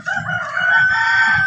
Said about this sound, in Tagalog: So yun guys, bali ito na yung native na manok.